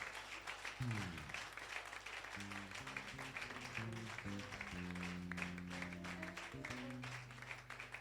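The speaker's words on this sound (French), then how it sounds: "Acclamons ces paroles." A church congregation applauds at a Sunday service, with soft, sustained clapping mixed under organ or keyboard music playing at a fairly low level.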